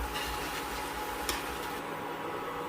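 Beetroot chips frying in hot oil over a low-to-medium flame, a continuous close sizzle and bubble with a brief clink partway through.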